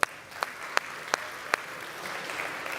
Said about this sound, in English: One more round of applause for Laura Beatris.